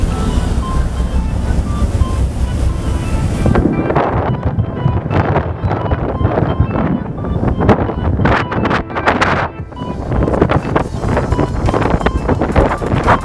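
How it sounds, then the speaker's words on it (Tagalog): A boat under way at sea off Basilan, with steady roaring wind buffeting the microphone and the rushing wash of water against the hull filling the whole stretch. "Dito na kami umaandar na ang barko namin, Alison."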